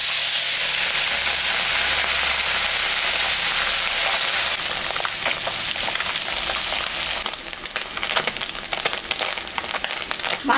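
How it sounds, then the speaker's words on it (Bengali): Fish seasoned with salt and turmeric fries in hot white oil, a loud, steady, dense sizzle and crackle with no talk, settling slightly softer near the end. "মাছটা এখন আমি ভাজবো।"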